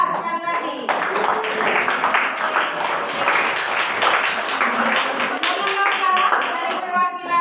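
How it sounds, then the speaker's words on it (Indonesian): A grade 7A school class applauding, a burst of quick, dense clapping from many hands that starts abruptly, runs loud and steady, then tapers off with voices briefly audible. "Tepuk tangan untuk kelas 7A sekali lagi"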